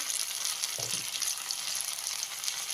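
Tomatoes roast directly over an open fire for a tomato relish, giving a faint, steady crackling hiss throughout with a soft low thump near the start.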